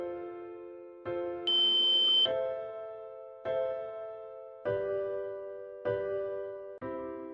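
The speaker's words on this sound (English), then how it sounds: "After the third fingerprint, there will be a long beep and the LED will blink green for 1 second." A ZKTeco ML10/PL10 series smart lock beeps through fingerprint registration, giving a series of distinct electronic tones of varying pitch and length, one longer high beep among them, each clear and close in a quiet room.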